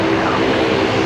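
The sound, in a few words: Dash 8 turboprop aircraft taxiing out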